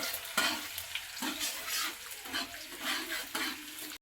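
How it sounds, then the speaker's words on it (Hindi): Ginger and garlic sizzle in hot oil in a pan for chilli chicken, a continuous close frying hiss broken by rhythmic stirring strokes and scrapes. "ये डल गया अदरक। थोड़ा ये हल्का ब्राउन होगा ना"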